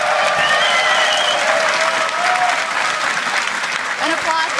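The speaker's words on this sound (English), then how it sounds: "An applause is in order for these guys" A large esports arena crowd applauds the League of Legends EU LCS Spring Split champions Fnatic at the finals, loud sustained clapping with cheers and a caster's voice talking over it.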